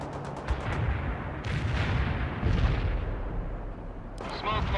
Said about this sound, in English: Activating grenade launcher.